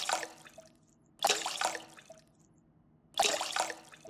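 Water poured into a mix in Bakery Simulator, three separate splashy gushes of liquid with quiet gaps between them, close and clear, no talking.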